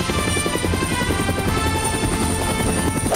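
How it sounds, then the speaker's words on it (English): Loud, close video game helicopter rotor thudding in a rapid steady rhythm with a constant engine whine, filling the whole clip, in Minecraft. "Helicopter, destroy the helicopter."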